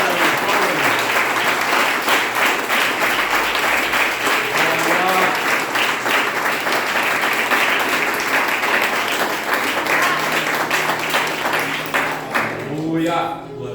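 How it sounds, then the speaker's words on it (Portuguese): A church congregation claps together in sustained, dense applause filling the room, loud and steady for most of the stretch before thinning out at the end, with voices calling out beneath it. "Dá uma salva de palmas ao Senhor."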